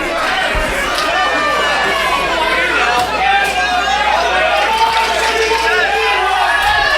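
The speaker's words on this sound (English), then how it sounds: "This crowd's going absolutely nuts here at the Brock Stop in Kenosha" A loud wrestling crowd at the Brock Stop in Kenosha roars and cheers continuously throughout, while a commentator talks over the din.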